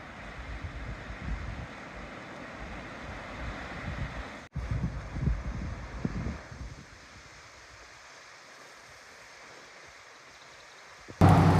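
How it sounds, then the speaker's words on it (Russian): The powerful Chulitna River in Alaska, swollen and muddy with glacial meltwater, gives a broad, steady rushing roar mixed with wind buffeting the microphone. The noise drops quieter partway through before a loud burst at the very end. "Ох, река Чулитна. Мощная."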